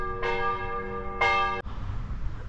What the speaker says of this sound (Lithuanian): Tikiuosi, čia iki 12 tie varpai neskambės.